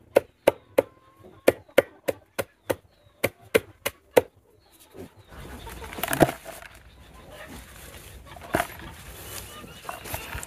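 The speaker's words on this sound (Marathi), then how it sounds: "आता ही कोथिंबीर आहे, या पद्धतीने आम्ही बारीक करून घेतोय ती" A knife chops fresh coriander finely on a board in a rapid, even series of sharp close knocks. The chopping stops and a rustling, handled background with scattered bumps follows.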